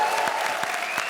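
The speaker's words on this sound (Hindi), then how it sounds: "जोरदार तालियां।" Studio audience on a Hindi TV comedy show set as a cooking contest bursts into dense, sustained applause, a steady wash of many clapping hands filling the short moment.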